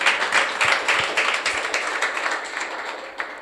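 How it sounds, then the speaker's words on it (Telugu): An audience at a Telugu church sermon claps together in a brisk, sustained round, with many hands close by forming a dense crackle that holds steady for several seconds. "చప్పట్లు కొట్టండి ఒకసారి."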